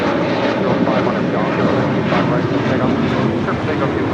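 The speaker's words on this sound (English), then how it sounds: "the Aeromexico Connect, flight 2704, coming up from Monterrey, Mexico. It's an E190LR." An Aeromexico Connect Embraer E190LR jet at Los Angeles International Airport gives a steady, loud engine roar that holds evenly throughout, with a voice talking over it.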